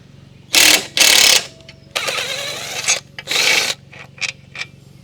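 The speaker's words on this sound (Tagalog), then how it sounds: "Gagamit tayo ng 14mm, tapos impact drill, impact wrench pala." Impact wrench with a 14mm socket loosening motorcycle exhaust bolts, several loud bursts of rattling hammering, the first two long and strong, then shorter scattered hits and a sustained run in the middle, all close by over a low steady hum.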